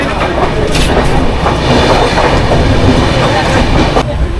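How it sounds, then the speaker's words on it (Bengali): The Sealdah–Puri Duronto Express, train 22201, runs through Bidhannagar station, heard from on board as a loud, continuous rumble with rattling wheels and carriage noise throughout. "এখন ট্রেন বিধাননগর স্টেশন দিয়ে ক্রস করছে।"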